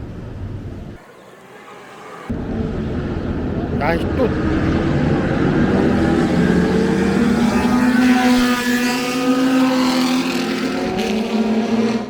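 A race car on the Yas Island racing circuit right beside a hotel approaches with a loud, rising engine roar that swells and holds for about ten seconds, heard from close by with a brief voice at the start.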